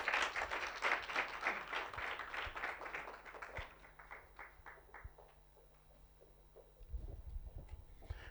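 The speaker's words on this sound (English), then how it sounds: "Can you give him a round of applause" Audience applause for a guest speaker at a tech talk event, a burst of clapping that is fairly strong at first and then thins out, with a low rumble of movement and a few scattered claps near the end.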